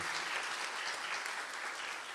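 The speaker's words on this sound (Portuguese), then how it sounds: "Vamos aplaudir, irmãos? Esse gesto bonito." Church congregation applauding together in a steady, dense patter of many hands clapping, even and sustained throughout, heard from within the room.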